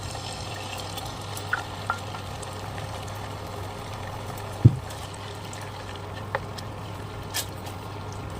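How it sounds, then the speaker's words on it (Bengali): Coconut oil with aloe vera cooking in a pan gives a faint, steady low sizzle, broken by a few soft taps and clicks as the mixture is stirred. "প্রথমে নারকেল তেল দিয়ে দিচ্ছি। এখন অ্যালোভেরা তেল দিয়ে দিচ্ছি।"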